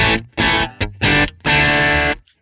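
Electric guitar through a Fender Bassman amp set on 5 with natural breakup and no pedals, four loud crunchy chords or phrases, the last held longest before cutting off, with no talk.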